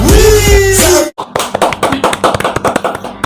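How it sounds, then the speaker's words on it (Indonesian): Someone outdoors at night claps their hands in a quick, sharp series of close, distinct slaps that follows a moment of loud voice, the rhythm slightly uneven. "Udah malam jadi tepuk tangannya gue kayak gini nih."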